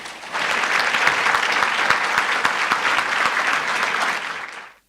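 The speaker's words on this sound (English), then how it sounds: "So applause for him." Audience applause at the Jobs Summit 2017, a sustained burst of many hands clapping that swells quickly, holds steady for several seconds and then fades out.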